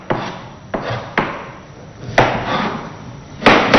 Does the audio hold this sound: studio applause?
no